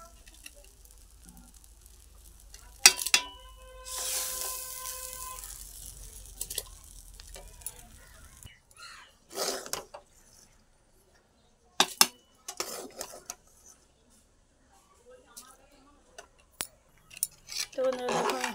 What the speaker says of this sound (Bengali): আমি এবারে এটা কড়াই থেকে হাঁড়ির মধ্যে ঢেলে দেবো।